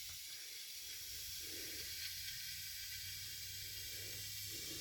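Gas hisses through a valve into a whipped cream dispenser, a faint, continuous high hiss with soft pulsing swells underneath and no speech.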